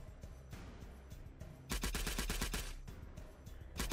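Gunshots in an FPS game built with Armory 3D come as a rapid string of sharp, evenly spaced bangs after a quieter opening, fading toward the end.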